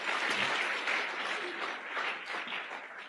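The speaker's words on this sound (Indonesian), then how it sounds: "Tepuk tangan untuk Tiansi dan One Vision." An audience at an event in Indonesia claps together, a dense wash of applause that swells early and then slowly tapers across a few seconds, fairly faint and distant.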